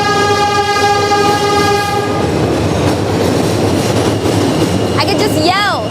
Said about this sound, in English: the train, this happens a lot.